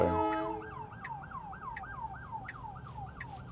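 An ambulance siren wails in a steady rising-and-falling pattern over road traffic, holding at a moderate distance throughout.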